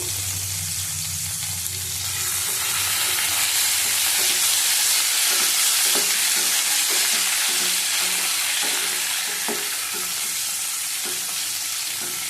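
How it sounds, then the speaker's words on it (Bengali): Boiled eggs frying in oil in a pan for egg curry, a continuous bright sizzle and hiss with small stirring knocks and scrapes recurring through the middle, close and moderately loud. "ডিমগুলি দিয়ে দিলাম। ভালো করে ভেজে নেব।"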